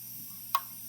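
A System Sensor heat detector on an EST Fireshield FS1004 fire alarm system gives a single faint, sharp click while being heated by a pyro pen, set against a quiet steady room hum.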